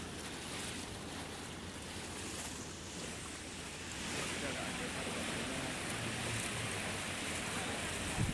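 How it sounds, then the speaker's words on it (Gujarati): Water released from the Harnav dam at Vanaj in Vijaynagar, Sabarkantha, Gujarat, pours out after heavy rain as a steady, loud broadband rush, swelling slightly stronger midway through, with some wind noise on the microphone. "તો સાબરકાંઠાના વિજયનગરના વણજ હરડાવ ડેમમાંથી પાણી છોડવામાં આવ્યું છે"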